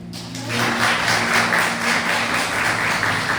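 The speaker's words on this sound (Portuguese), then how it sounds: "As palmas são do Senhor." A church congregation at an evening worship service claps together, a sustained, fairly loud patter of many hands that starts abruptly after a short pause, with some organ or keyboard tones held underneath.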